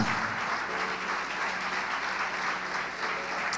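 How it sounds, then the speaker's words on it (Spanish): A church congregation applauds during a pastor's sermon, a continuous, even roar of many hands clapping at moderate volume, with faint voices mixed in. "denle un fuerte aplauso al Señor"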